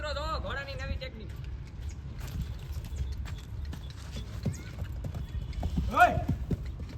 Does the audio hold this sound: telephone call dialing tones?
no